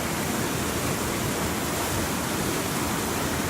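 A waterfall at Shady Cove roars in a dense, steady rush of falling water, close and loud, with no distinct sound of the wooden piece going over.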